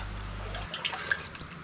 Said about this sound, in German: Jetzt gut verrühren, bis sich das Salz in dem heißen Wasser aufgelöst hat.